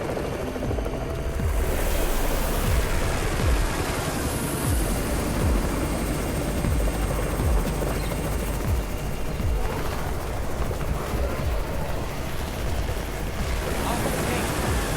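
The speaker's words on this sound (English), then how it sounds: "It's the Raven's chopper! We have backup!" Steady video game helicopter rotor thrum with rushing wind and low rumble, loud and continuous throughout, with faint voices underneath.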